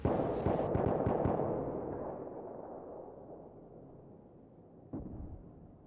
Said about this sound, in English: we throw a grenade